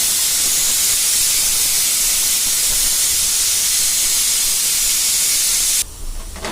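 A pressure cooker of dal hisses loudly and continuously as steam escapes, a steady close rush that cuts off abruptly near the end, leaving quieter background noise.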